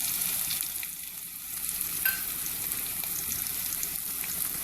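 Grated ginger frying in a pan over a medium flame gives a steady, close hiss and sizzle with faint crackles and a brief clink, and no one speaks.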